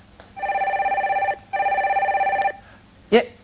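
A telephone rings on a call-in show, with two loud electronic ring bursts close together, followed by a brief sharp sound as the line is picked up.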